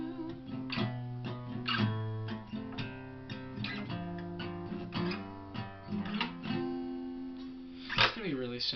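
Closing section of a song played on guitar, a simple run of chords strummed and let ring, heard near and clear with no other sounds, a brighter accent struck near the end.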